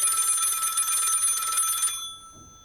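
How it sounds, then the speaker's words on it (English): A telephone rings in a radio drama: one loud, close bell ring lasting about two seconds, then cutting off into near silence. "The phone."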